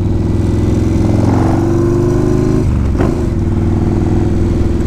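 Turbocharged Yamaha Warrior 1700 motorcycle on the road, its engine droning loud and steady with a rough low rumble, a brief shift in pitch near the end, and no talking.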